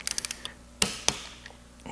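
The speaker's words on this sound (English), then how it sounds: "we're gonna go ahead and get our torque wrench" A torque wrench tightens a bolt to 85 inch-pounds on an Acura NSX shift lever assembly: a quick run of small ratcheting clicks, then two sharp metallic clicks as the wrench breaks, close and fairly quiet.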